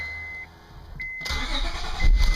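A car's engine cranks and catches about midway, then settles into a steady mid-pitched idle that grows slightly louder toward the end; a faint electronic beep is heard earlier, with no talk.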